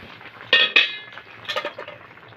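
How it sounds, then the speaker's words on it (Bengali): Metal pot lid lifted off a pan of boiling tomatoes, two bright clanks close together, then a few softer clinks of the lid settling, close and clear in a quiet kitchen. "এবার চাপাটা খুলে আমি দেখে নেব।"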